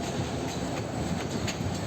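A train rumbles past a wholesale fish market, a broad continuous roar with faint rhythmic clatter from the wheels, filling the whole moment.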